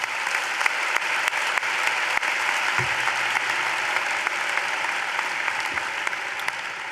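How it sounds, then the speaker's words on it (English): Audience applause at a 2019 high school commencement ceremony, steady and dense clapping from a large crowd that carries on evenly for the whole stretch, with no talk over it. "Let's give them a round of applause."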